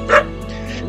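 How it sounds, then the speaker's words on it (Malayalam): A single short dog bark rings out outside a homestay in Auli, brief and fairly clear over a steady low hum. "പുറത്ത് ഞങ്ങളെ വെൽക്കം ചെയ്തുകൊണ്ട് ഒരു പട്ടി കുരയ്ക്കുന്നുണ്ട്."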